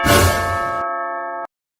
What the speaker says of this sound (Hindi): कितना घंटी बजाएगा?